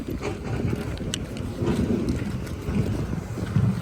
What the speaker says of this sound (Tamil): இங்கே தண்ணி எப்படி பாஞ்சிடுது